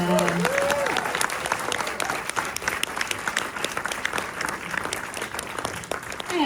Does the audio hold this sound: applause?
yes